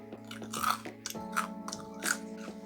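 Homemade mochiko cake is bitten and chewed with crisp crunches, several close crackly bites spaced about every half second, heard alone without talking.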